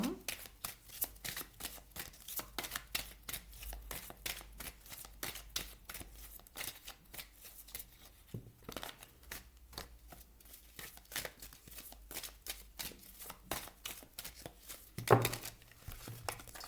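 Oracle cards being shuffled by hand for a reading: a long, rapid run of crisp riffling flutters and soft slaps, close and continuous, with a brief knock near the end.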